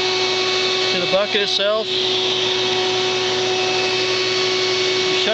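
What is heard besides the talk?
Vac-A-Bee bee vacuum running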